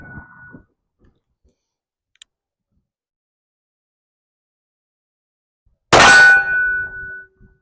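Revolver shot striking a steel target: after a long quiet stretch, one loud sharp impact breaks out and leaves a ringing metallic tone that fades over about a second, with a faint ring trailing off at the very start.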